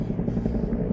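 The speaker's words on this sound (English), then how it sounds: "There's the helicopter. It's over Navy Pier now." A helicopter hovers over Navy Pier on Chicago's lakefront, its low, steady rotor thrum heard from a distance and filling the moment with no talking.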